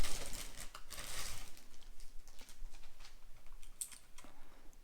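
A modular mechanical keyboard with Cherry MX switches slides out of its packaging, giving a close run of crinkling, rustling and light plastic clicks and taps over a few seconds, with no one talking.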